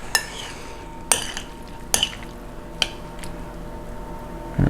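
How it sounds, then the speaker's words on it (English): Peach and tomato bruschetta mixture stirred in a bowl, a spoon giving four sharp clinks against the bowl at regular intervals over a quiet background, with a louder knock at the end. "Give it a nice little stir."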